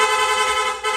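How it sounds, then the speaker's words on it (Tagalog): A PIAA horn fitted to a Honda Click V2 scooter blares continuously in rapid mode, loud and close, a dense steady tone filling the whole second with only a brief dip near the end. "Long press lang po natin yung horn switch, yung busina natin, magsusunod-sunod na po yan."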